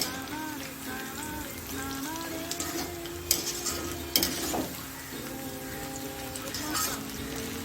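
A parsley and small onion pakoda mixture crackles as it fries in a pan while a spoon stirs and scrapes it, with a few sharp clinks and a steady sizzle underneath.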